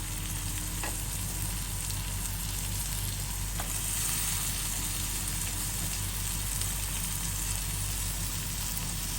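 Onions sautéing in butter or oil in a pan, a loud, dense, continuous sizzle up close with a couple of faint utensil taps and no talking.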